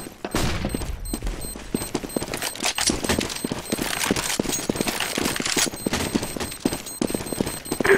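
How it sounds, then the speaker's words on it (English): In a Counter-Strike match, a thrown flashbang detonates amid rapid, continuous gunfire, the sharp shots crackling in dense irregular bursts at close range with no voices. "I'm throwing a flashbang."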